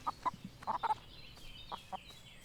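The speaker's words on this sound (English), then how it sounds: "Come here, little chicken." A chicken in the farming game Everdream Valley clucks in irregular clusters of short, sharp notes, some paired, close by over a soft low background.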